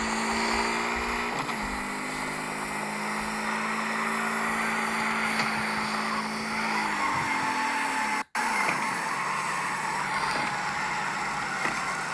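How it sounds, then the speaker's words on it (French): Car drifting in the street-racing video game CarX Street, with a steady engine drone and harmonic tire squeal that sweep and shift over twelve seconds, loud and continuous with a brief cut near the end. "il était bien ça comme drift, en vrai"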